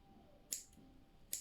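Thinning scissors snip through fly-tying material on a pike jigfly, two crisp, faint cuts about a second apart in a quiet room.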